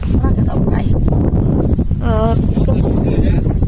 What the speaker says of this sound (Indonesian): Wah, ini kabut dan angin ya.